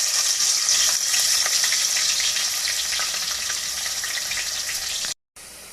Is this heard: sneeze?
no